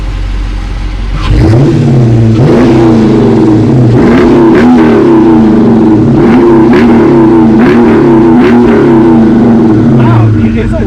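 A car exhaust fitted with Cherry Bomb Extreme mufflers on 3-inch piping fires up and is revved repeatedly, loud and close, with deep throaty surges over a steady idle.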